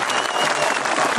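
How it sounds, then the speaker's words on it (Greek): An audience at a formal Greek ceremony applauds children, a dense steady patter of many hands clapping at once, filling the short moment evenly. "Ένα χειροκρότημα για τα παιδιά που μας έκαναν υπερήφανο."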